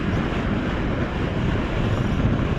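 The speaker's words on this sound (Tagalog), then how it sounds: "Sobrang hangin guys." Strong wind during a typhoon buffeting the microphone, a continuous loud roaring rumble with no breaks and no speech.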